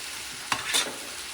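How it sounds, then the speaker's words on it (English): A spoon stirs smoked paprika into a pan of salmon paella, with a soft steady sizzle and two brief scraping sweeps, close by and with no voices. "Going to mix it up. Smoked paprika, tablespoon."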